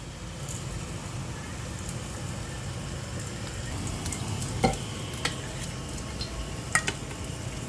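Bitter gourd (ampalaya) sizzles steadily while frying in a pan, and a utensil stirs it with a few sharp scrapes and clinks against the pan over the continuous frying hiss.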